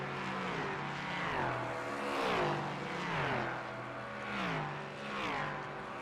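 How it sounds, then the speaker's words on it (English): Loud racing engines in a racing video game rev up and down in repeated waves at Road Atlanta, pitch sweeping as cars accelerate and shift, with no talking. "these cars are very, very loud"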